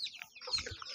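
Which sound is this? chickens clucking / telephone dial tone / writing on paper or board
chickens clucking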